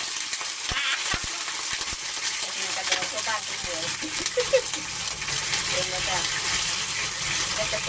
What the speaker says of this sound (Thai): เราใส่น้ำลงไปนิดหน่อย